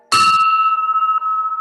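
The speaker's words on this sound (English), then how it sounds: "And I struck the bell." A bell struck once to open a Rotary club morning meeting, a sharp metallic strike followed by a clear ringing tone that sustains and slowly decays, alone in a quiet room.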